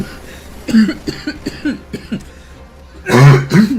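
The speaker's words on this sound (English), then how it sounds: "I can't stop coughing." A person coughs over and over in short, harsh bursts, a string of quick coughs followed by a louder, heavier fit near the end, close to the microphone with no talk.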